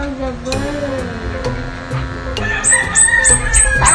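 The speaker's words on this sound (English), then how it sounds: "The bird is crying." A distressed bird, apparently stuck in mid-air, gives repeated clucking, fowl-like cries. Sharper high chirps join in the second half, loud and close over a busy background.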